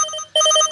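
A mobile phone ringing with a missed call, a loud, close melodic ringtone of bright repeating tones that pauses briefly, then resumes.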